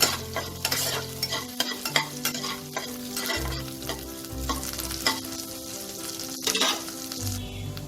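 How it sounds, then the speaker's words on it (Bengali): Ginger frying in a pan for a lime-leaf mung dal, with steady close sizzling and repeated scraping strokes of a spatula stirring through the whole stretch, no voices. "আদাটাকে একটু ভেজে নেব।"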